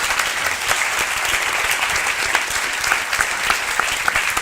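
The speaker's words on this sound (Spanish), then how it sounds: "Un aplauso." Sustained applause from a festival audience at a Crossover Festival show on the 2023 Turra Tour, dense and steady clapping filling the space from start to finish with no voices over it.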